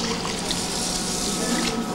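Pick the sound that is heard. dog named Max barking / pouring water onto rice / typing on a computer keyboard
pouring water onto rice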